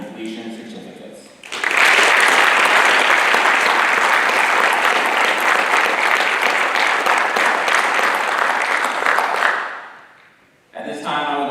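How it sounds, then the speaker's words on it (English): Applause from the audience at a military officer training school graduation starts after a short stretch of speech and holds as loud, dense clapping for about eight seconds before fading. Talking picks up again just afterward. "Please give a round of applause to the officers who have completed this orientation course"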